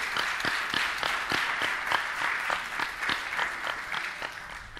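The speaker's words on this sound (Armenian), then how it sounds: "Խնդրեմ ծափահարեք իրենց համար" An audience at a 2019 graduation ceremony applauds the graduating students with steady, dense clapping from a large crowd, sustained and fairly even at moderate distance, with no voices standing out.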